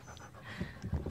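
A German Shepherd pants close by indoors, with soft rhythmic breaths and faint whimpery sounds over a quiet background.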